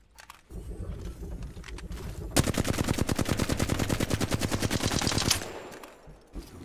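Automatic gunfire in a video game while the player moves, a rapid, evenly pulsed stream of shots lasting about three seconds, close and loud, alone without voices.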